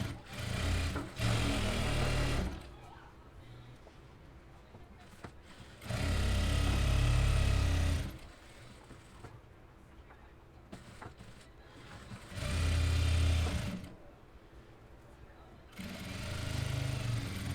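A sewing machine stitches the lining of a lined suit with a half-foot seam, running in four short bursts of steady mechanical whirring separated by quieter pauses.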